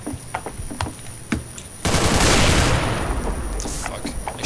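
Rapid gunfire in the game CS:GO, scattered single shots at first, then a dense, loud burst of sustained automatic fire that carries through to the end.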